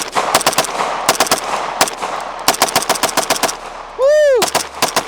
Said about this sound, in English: I gotta keep on firing it. I gotta see if I can get the whole mag.